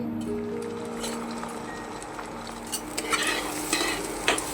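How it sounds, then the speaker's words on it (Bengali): Salted beaten eggs for masala egg bhurji fry in oil in a frying pan, a steady soft sizzle joined later by sharper spatula scrapes and taps against the pan, close by and without talk. "ডিমের ভুজিয়াটা বানিয়ে নিচ্ছি আমি আগে ভালো করে"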